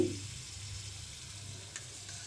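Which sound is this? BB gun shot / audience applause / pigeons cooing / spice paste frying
spice paste frying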